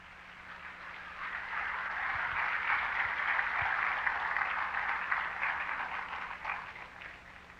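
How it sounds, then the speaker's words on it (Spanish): A church congregation applauds in a sustained, moderately distant wash of clapping that swells and then slowly fades. "Denle un aplauso al Señor, pues."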